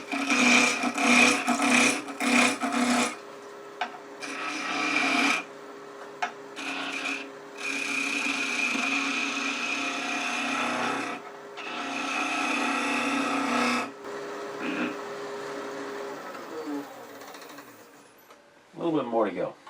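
Skew chisel taking a light planing cut on a wood lathe while turning cattails, a steady scraping rasp with bursts of louder shaving and brief pauses, under a voice talking.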